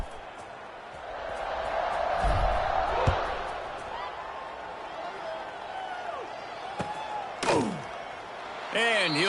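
Stadium crowd in the College Football 26 video game, a steady roar of many voices with a few thuds and a whistle, under a commentator talking.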